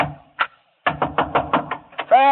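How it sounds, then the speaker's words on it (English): Hard knocking on a door in a radio drama: a lone rap, a pause, then a fast run of about seven firm, close knocks, followed by a voice calling out. "I was banging on another door"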